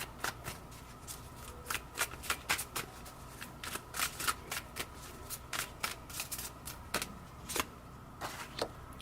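Tarot cards shuffled by hand in quick, uneven riffles and slaps, with sharp close flicks repeating throughout over a quiet background.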